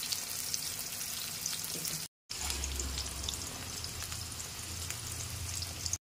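Stuffed bitter gourd fries in oil in a pan over low heat, giving a steady close sizzle and crackle. A couple of brief dropouts interrupt it, and a low rumble underneath comes and goes.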